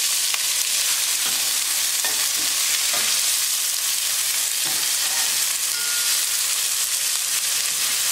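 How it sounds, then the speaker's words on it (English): Onion frying with cumin seeds in hot oil, a dense continuous sizzle with occasional stirring scrapes and clinks, close and steady throughout. "Now we're going to add onion."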